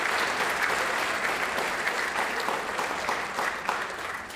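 A large audience applauds band directors at a band festival gathering, with steady, dense clapping that continues at an even level throughout.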